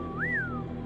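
A narrator whistles in imitation of an officer calling down a hallway: a single short whistle that rises then glides back down, moderately loud over a steady low background hum.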